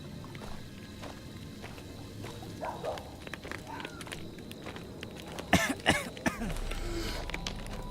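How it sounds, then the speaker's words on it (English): A character in the horror video game Maid of Sker coughing beside a fire, a short cluster of rough coughs and throat clearing near the middle, set against quiet ambient game noise. "Man, why do you have to cough near the fire here?"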